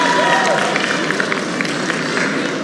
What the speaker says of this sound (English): Can we get another round of applause for our answers here?